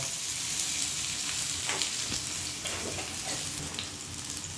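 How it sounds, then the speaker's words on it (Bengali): Chopped onion frying in mustard oil for a tona fish dish, a steady close sizzle and crackle with occasional stirring scrapes, no talking. "পেঁয়াজটা একটু ভাজা ভাজা হয়ে গেলে কাঁচামরিচ দিয়ে দিতে হবে"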